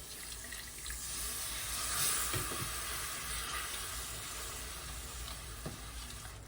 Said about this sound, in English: just stir that in slowly